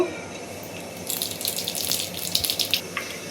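Cumin, panch phoron and radhuni spices sizzle and spatter in hot oil with a bright crackling hiss that starts suddenly and continues in irregular pops, close and fairly quiet.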